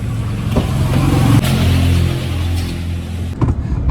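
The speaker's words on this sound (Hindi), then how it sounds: "अपन जा रहे हैं अपनी इस न्यू कार से जो मैंने अभी हाल ही में ली है" A newly bought car drives along a road in India, its engine note humming steadily close by with a few bumps and knocks, and no one speaking.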